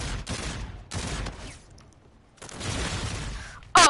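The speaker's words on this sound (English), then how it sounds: "one of my favorite snipers. Because it turns into an assault rifle." Bursts of assault rifle fire from a sniper weapon that converts to automatic in a video game, loud clusters of shots in three bursts with a pause between and a sharp crack at the end, no talking.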